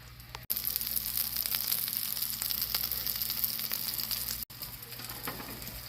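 A pizza quesadilla browns in a frying pan with a steady, dense sizzle close up, broken only by two very brief cutoffs.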